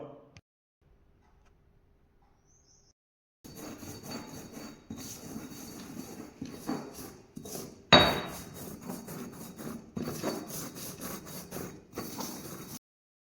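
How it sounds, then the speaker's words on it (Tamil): Kohl powder is ground into a paste with a stone or pestle. After a quiet opening come rapid, rough rhythmic grinding and scraping strokes with a few sharp knocks. "இப்போ மையை பதமாக அரைக்க போகிறோம்"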